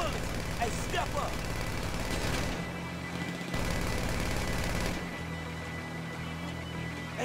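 Gunfire in GTA Online, a dense run of shots mixed with engine noise and game effects, with a voice talking over parts of it.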